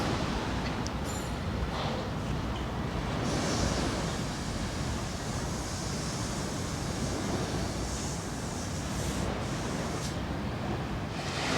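Ocean waves on the shore at Ca'n Pastilla, Mallorca, a constant broad rushing surf that stays steady and fairly soft, with no voices over it.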